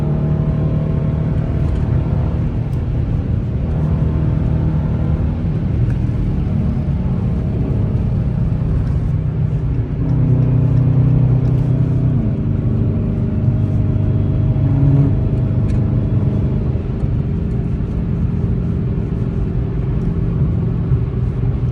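A 5.7 HEMI V8 car engine pulls hard on the road, its deep, steady roar swelling as it accelerates, with a continuous low rumble close by and no talking over it.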